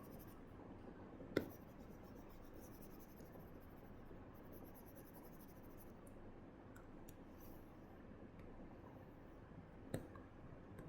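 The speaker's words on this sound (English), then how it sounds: "Erase all this." An eraser rubs writing off a lecture-hall board. It makes a continuous soft scrubbing texture throughout, broken by two sharp taps.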